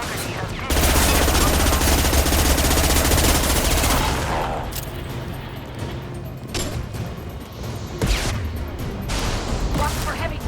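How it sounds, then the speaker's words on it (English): Heavy gunfire in Mass Effect 2, a loud, sustained automatic burst with a deep rumble for the first few seconds, then scattered shots and impacts with voices talking over it. "Watch for heavy fire."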